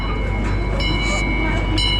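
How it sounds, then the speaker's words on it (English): A small theme park train at Paultons Park rumbles past close by, a steady rolling clatter with brief brighter squeals and clicks from the wheels, heard without clear speech over it. "Beautiful train."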